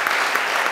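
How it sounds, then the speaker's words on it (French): Brief burst of steady applause from a congregation during a baptism service, a short, dense patter of clapping. "On peut encore les applaudir."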